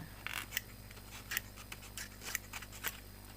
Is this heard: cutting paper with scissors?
yes